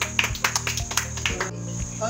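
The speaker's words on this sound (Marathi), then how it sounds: "छान, टाळ्या।" People clap at a Ganesh idol workshop, a quick run of rhythmic claps over a steady background hum.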